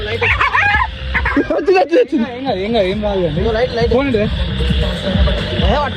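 A dog trapped on a farmhouse centering structure barks and whimpers in wavering yelps during a rescue, with people talking loudly over and around it close by.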